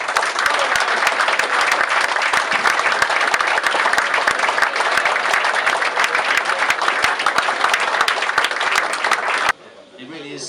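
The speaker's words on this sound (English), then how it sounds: "I'd like a massive, massive round of applause for Howard" An audience at a Wealdstone FC end-of-season awards night applauds an award winner with loud, dense, sustained clapping for about nine seconds, then it stops abruptly and a faint voice is left.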